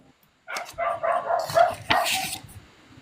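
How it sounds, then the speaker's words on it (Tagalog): Several dogs bark in a quick run of sharp yips and woofs at close range, with a short gap before a final burst, heard alone without talk. "Marami kasi akong aso."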